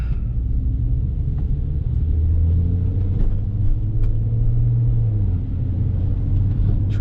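BMW F30 335i moving slowly through a night blizzard, a steady low road rumble and engine drone continuing throughout with faint intermittent clicks above it.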